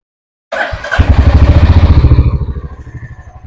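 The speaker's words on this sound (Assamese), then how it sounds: "মই বাইকখন ষ্টাৰ্ট কৰি দিওঁ, কাৰণ বেটেৰীটো বহি যাব পাৰে।" A Royal Enfield Hunter 350 motorcycle engine cranks and catches after a brief pause, settling into a loud, steady, close thumping idle with a rapid, even pulse.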